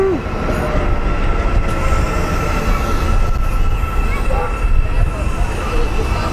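A modern-generation train passes close by, a loud steady roar of rolling wheels and rail noise with tonal hums and a faint squeal, lasting throughout.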